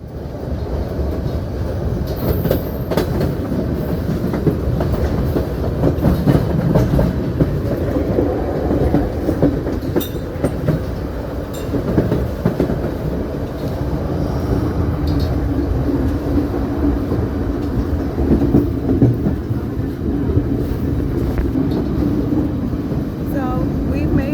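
Train ride through scenic country near Skagway, Alaska: steady rumble and clickety-clack of the rail cars rolling along continuously, fairly loud, with faint voices now and then.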